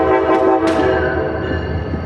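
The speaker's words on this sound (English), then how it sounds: "The bridge goes on top of the train." A passing train sounds its horn in a sustained loud blast with a rising onset, heard near a bridge on a river walk, with the steady rumble of the rail cars underneath.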